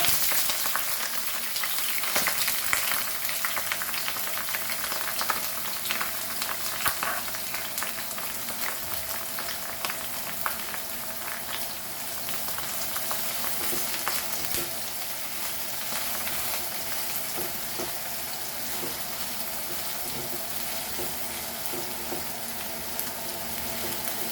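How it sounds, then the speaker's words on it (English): Garlic, chili and onion fry in a pan, giving a steady, even crackling sizzle that carries on for the whole stretch at moderate volume, close by, with faint stirring noises and no voices. "Then we'll fry our garlic, chili and onion."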